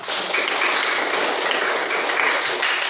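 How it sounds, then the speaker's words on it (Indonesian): Classroom audience in a teacher-training lesson applauding together, a steady dense patter of many hands clapping nearby, holding at an even level for about three seconds before cutting off. "Tepuk tangan untuk kita semua"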